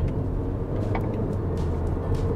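Haval H6 HEV hybrid SUV accelerating hard in sport mode, heard from inside the cabin as a steady, loud low engine and road roar without letup.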